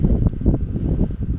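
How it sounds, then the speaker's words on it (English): Gusty outdoor wind buffets the microphone as a continuous low rumble with fluctuating bursts, close and fairly loud, with no other clear sounds. "pretty windy out here."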